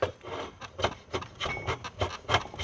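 Rhythmic rasping strokes of a draw knife shaving wood for a tenon, several quick close pulls in a row, each a dry scraping burst.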